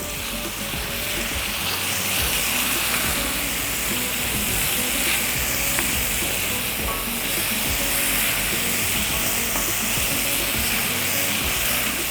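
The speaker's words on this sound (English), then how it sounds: "Next, I'm going to be adding a little bit of my tomato puree." Tomato puree hitting a hot paella pan, giving a loud, steady sizzle and hiss that stays continuous and close throughout, without a voice over it.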